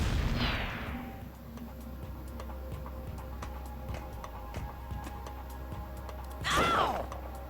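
A fire sling spell attack in Arc the Lad: Twilight of the Spirits opens with a bright whooshing burst and then a low rumbling roll. Faint ticking runs under it, and a second sharp flare of sound comes near the end.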